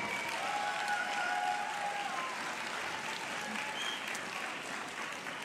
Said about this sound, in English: I ask the graduates to now acknowledge with a round of applause the support